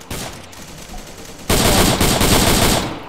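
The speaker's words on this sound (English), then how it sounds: "That sounds like a sniper rifle. That sounds like an actual old sniper." Gunfire from an old sniper rifle in the Arma 3 Vietnam game mode: steady shooting at first, then a much louder, dense burst of rapid shots from about halfway through, with no voices.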